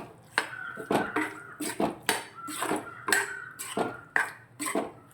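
A spoon scrapes and clanks repeatedly against a pan while mutton liver pepper curry is stirred, a quick irregular rhythm of close metallic knocks.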